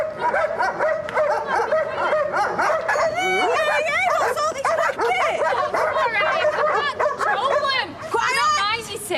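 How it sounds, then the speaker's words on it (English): Several dogs on leads bark, yip and whimper excitedly nearby in rapid overlapping bursts, with people's voices mixed in among the noise. "It's only dogs. They're on leads, nothing to worry about."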